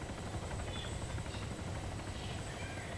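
A helicopter in a French-language shooter video game holds a steady, fairly loud rotor drone with a low thrumming pulse throughout, with no talk over it.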